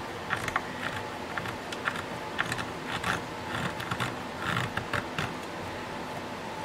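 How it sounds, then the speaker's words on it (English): A small hanger rig is screwed into the end pin of a custom 12-string dreadnought acoustic guitar, giving soft, close creaks and ticking clicks in an uneven rhythm over a quiet background. "I always hang them from the end pin here, and so I'm screwing back in my little hanger rig"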